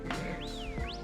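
A player's whistle in Pokemon Scarlet, calling Pokemon over: a single clear, rising and falling tone lasting about a second, close and fairly loud, with no talk.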